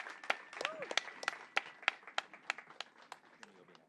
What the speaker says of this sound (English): Help me in giving our LADOT staff a round of applause and thanking them